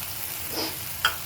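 Pureed tomatoes and cashews sizzling and frying in a pan, a steady close hiss with a brief stir and a clink near the end.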